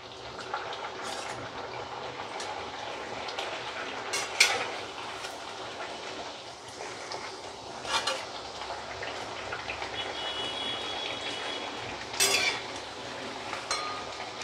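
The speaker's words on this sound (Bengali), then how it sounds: "এবারে এটাকে আমি তেলে ছেড়ে দিলাম" Rolled jibhe goja dough, pricked with a fork, frying in hot oil: a steady, close bubbling sizzle with occasional faint clinks of a utensil against the pan.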